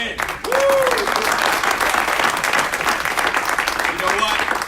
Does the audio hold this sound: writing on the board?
no